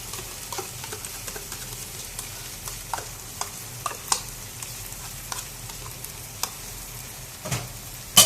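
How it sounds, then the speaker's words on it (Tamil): Curd is stirred into a sizzling vegetable biryani mixture in a pot, with a soft frying hiss under irregular spoon scrapes and clacks, ending in a louder knock. "கொஞ்சம் நல்லா மிக்ஸ் பண்ணணும்."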